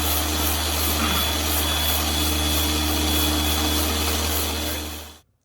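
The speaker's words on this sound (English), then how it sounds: "First thing I'm gonna do is grind down this area, get it down to bare metal." A hand grinder with a 4.5-inch flap disc works a car body panel down to bare metal, a loud continuous whining drone that holds steady and then cuts off at the end.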